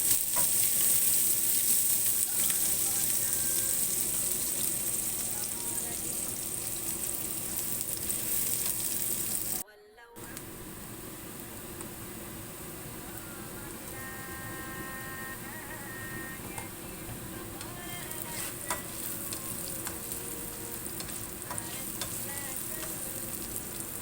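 Vegetables sautéing in a pot over the fire, a constant hissing sizzle with light stirring clatter, briefly cut off before resuming steadily.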